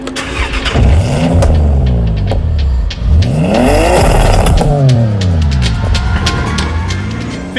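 A car engine in Forza Horizon 6 revs hard through repeated rising and falling sweeps, loud and close, with gear changes and a steady roar throughout and no voices.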